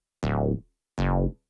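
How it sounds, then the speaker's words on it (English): Two separate acid-style bass synth notes, each a loud, bright, buzzy burst that sweeps down from high to low over about half a second, with a short silence between them. "First, we have this acid bass,"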